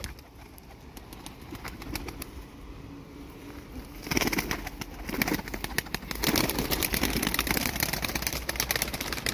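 Flying pigeons kept by a pigeon fancier give soft coos amid rustling and clattering, the activity growing louder and busier partway through.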